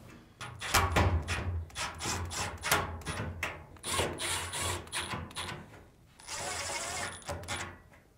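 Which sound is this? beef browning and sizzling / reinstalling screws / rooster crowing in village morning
reinstalling screws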